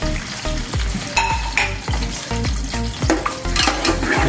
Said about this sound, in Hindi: ऑयल के बाद जैसे ही थोड़ा ऑयल गर्म हो जाएगा तो हम इसके अंदर प्याज ऐड कर देंगे।